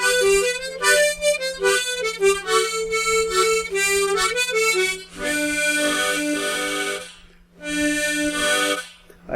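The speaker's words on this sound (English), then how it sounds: "If I play that same melody on the bottom harmonica, it'll sound like this" Tremolo harmonica carrying a melody on the lower harmonica of a Richter-tuned setup, with the blow chord sounding underneath; bright, reedy wavering tones in phrased bursts with a short pause before a final phrase.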